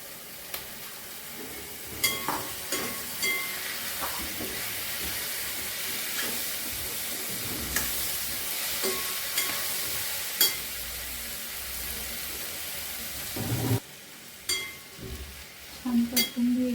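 Taro corm pieces sauté in a pan for a wild-vegetable dish, a continuous sizzle broken by repeated clinks and scrapes of a spatula stirring, with a louder clatter near the end.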